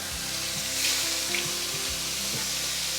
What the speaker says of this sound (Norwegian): Snur vi den. Demper vi temperaturen litt, sånn at den får steke seg gjennom.